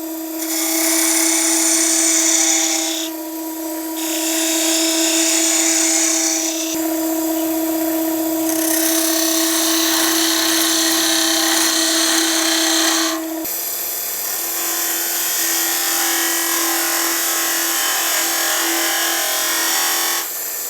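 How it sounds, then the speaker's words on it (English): Continuous high-pitched whine of a spinning wood lathe with abrasive rubbing and scraping against a resin egg, close and steady, pausing briefly a few times. "I'll come down and start shaping this"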